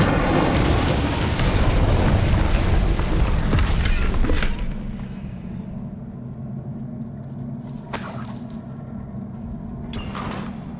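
The Incendio fire spell in Hogwarts Legacy erupts as a loud, roaring whoosh of flame lasting several seconds, then fades into a quieter rumble marked by a couple of brief sharp bursts.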